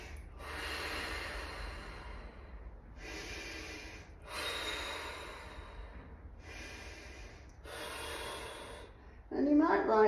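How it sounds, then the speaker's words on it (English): Slow, audible breaths drawn in through the nose, five long airy inhalations evenly spaced and close, followed by a short rustle at the end. "3 breaths through your nose."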